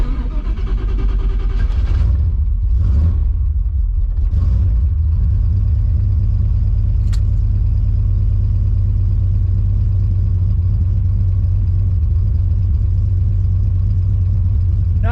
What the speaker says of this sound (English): Go ahead and crank up the old foxbody.